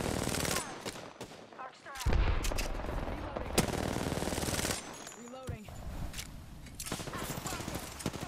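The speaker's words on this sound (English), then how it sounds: "that sniper fire" Sniper shots and bursts of automatic gunfire from the video game Apex Legends crack repeatedly, loud and sharp, with several separate shots spread through the clip while players talk over them.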